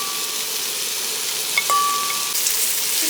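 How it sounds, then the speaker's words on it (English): Onions sweating in a frying pan give a soft, steady sizzle, fairly quiet and even, with a faint tonal whine and a light clink partway through. "So we're sweating the onions, right?"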